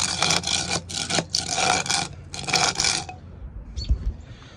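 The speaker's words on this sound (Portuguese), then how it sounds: "Isso vai tirando aquelas cascas de tinta que pintor deixa" A floor scraper blade rasps over a floor, stripping away paint flakes left behind by painters, in several long, loud scraping strokes close by, followed by a short pause and a few lighter scrapes.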